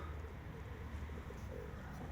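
Domestic pigeons coo softly in a low, steady murmur over a dull rumbling background, with no clear wingbeats standing out.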